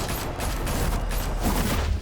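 Dense rapid gunfire from a Batman: The Telltale Series shootout, a continuous crackling barrage of close shots with booming low end, loud throughout with no talking.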